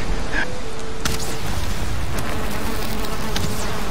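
A swarm of bees drones steadily in the Valheim video game, a continuous close buzzing that carries through the whole stretch, with a sharp impact partway in and no talking over it.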